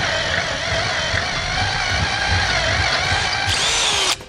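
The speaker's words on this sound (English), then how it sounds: "your overload springs are made of some pretty thick and difficult metal to drill through" A power drill grinds steadily through thick steel overload springs on the rear suspension of a 2018 Ford truck, a loud continuous whine that rises in pitch near the end before cutting off abruptly.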